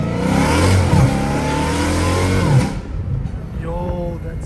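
Straight-piped Dodge Challenger Hellcat Redeye with its valves open, revving loudly and close by in a sustained roar that cuts off abruptly, leaving a lower idle rumble with a short rising rev near the end.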